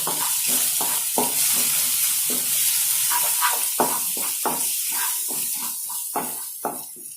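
Coriander powder and garam masala stir and sizzle in hot oil in a pan for plain parotta salna, with loud continuous frying hiss and repeated scraping strokes of a spoon.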